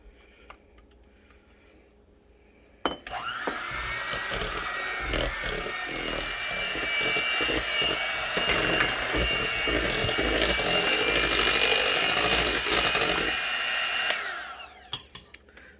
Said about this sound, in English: So I'm just going to keep mixing and adding my eggs 1 at a time.